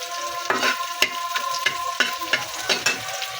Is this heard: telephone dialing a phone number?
no